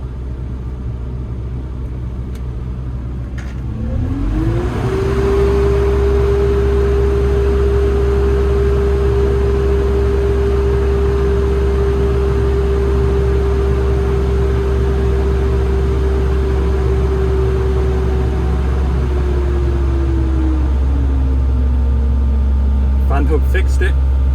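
The engine of a big mining shovel under running repairs, with its fan going flat out, revs up sharply, holds a loud steady drone for about fifteen seconds, then winds back down, over a constant deep rumble.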